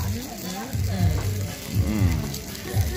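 Food sizzles on a grill in a steady, close frying hiss with occasional spatters, while people talk over it.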